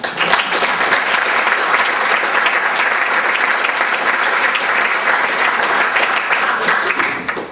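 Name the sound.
audience applause at a sports banquet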